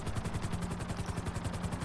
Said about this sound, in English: once we're flying there, we just gotta land the helicopter